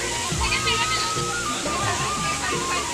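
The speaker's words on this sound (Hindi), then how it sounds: "देखो ना एकदम मस्त झरना बहत है झरझर झरझर" Waterfall flowing at the Jatmai Mata temple in Gariyaband, a steady rushing splash of falling water, with someone talking over it and children's voices nearby.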